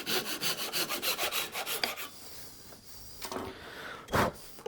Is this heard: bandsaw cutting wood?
yes